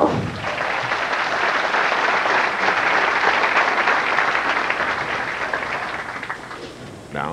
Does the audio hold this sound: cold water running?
no